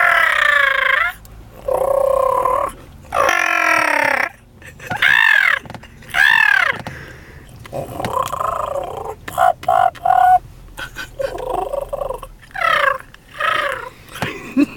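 A woman imitates chicken or turkey clucking and gobbling with a string of warbling, squawky vocal bursts up close, separated by short gaps and followed by softer chatter.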